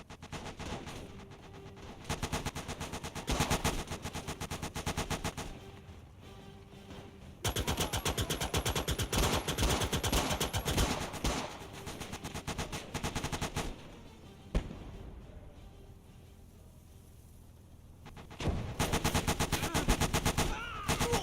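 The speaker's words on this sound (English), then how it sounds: "Another machine gun squad, I'm assuming, off my left." Machine-gun fire and scattered gunshots crackle in a World War II battle in the game Gates of Hell: Ostfront, with rapid bursts rattling over a constant battle din and growing louder in several stretches.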